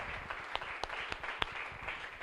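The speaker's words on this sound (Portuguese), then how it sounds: "Vitor Quadros na Bahia, uma salva de palmas ao Senhor por ele" A church congregation claps during a worship service: a short burst of broadband applause with a few sharper individual claps standing out, moderately loud and steady throughout.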